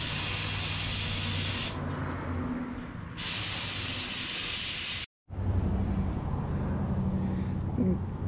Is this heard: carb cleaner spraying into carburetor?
yes